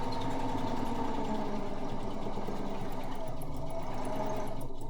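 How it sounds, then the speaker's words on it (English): A sewing machine stitches through paper in a steady, continuous mechanical whir, loud and close, running without pause under no talk. "Before I sew, I have to put this presser foot back down."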